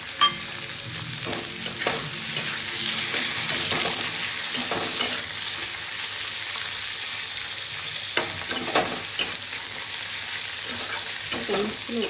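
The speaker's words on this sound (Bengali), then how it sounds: "ভাজা ভাজা হয়ে গেছে, এখন পনিরগুলো দিয়ে দিচ্ছি" Paneer cubes sizzle as they fry in a pan, a steady loud crackle with scattered sharp pops and scraping stirs throughout, no voices.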